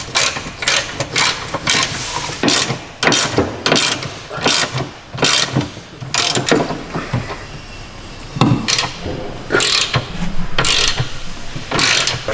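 Ratcheting on a Ford Focus ST rear drop link bolt during fitting of Hardrace drop links and anti-roll bar, bursts of rapid metallic clicks repeating through the clip, close and fairly loud, with no talking.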